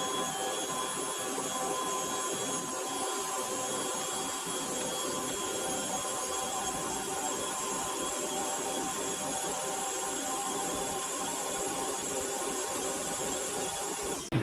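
A metal lathe cuts a taper on a steel drawbar, giving a steady loud whine with tonal ringing that holds unbroken throughout, no voices.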